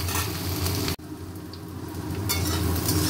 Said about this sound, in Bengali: পেঁয়াজ ভাজা হচ্ছে, পেঁয়াজ ভাজলেও সময় লাগে